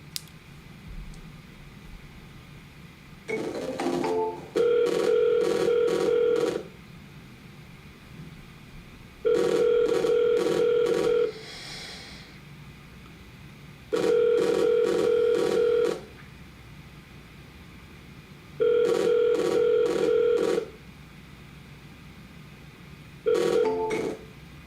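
An outgoing cold call rings through on a phone line with no answer: five evenly spaced ringback tones, each about two seconds long with roughly three-second gaps, heard clearly over faint line hiss.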